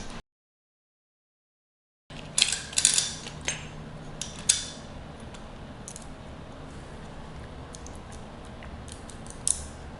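Screws are worked loose from a Jazzy Carbon lightweight powerchair with a wrench, giving faint close metallic clicks, ratcheting and small clinks after a brief silence.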